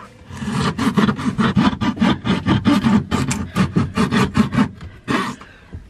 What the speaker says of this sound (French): On va devoir limer les parois pour agrandir le trou.